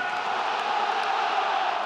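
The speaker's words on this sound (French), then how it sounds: "Tout le monde est debout pour acclamer" Stadium crowd at an Olympique de Marseille match roaring to cheer goalkeeper Steve Mandanda, a dense, sustained wall of voices from a large audience heard from within the stands, steady and loud for the whole stretch.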